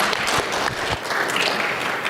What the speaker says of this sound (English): give them a round of applause to get them going.